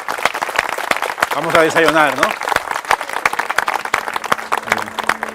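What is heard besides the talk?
audience applause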